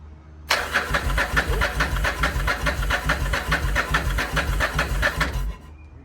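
A Yamaha XV1100 Virago motorcycle engine cranking over on the starter for about five seconds, a rapid rhythmic whirring churn that never catches, loud and close, then stops abruptly.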